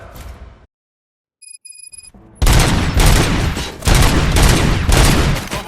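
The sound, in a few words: gunfire in Robocop Rogue City video game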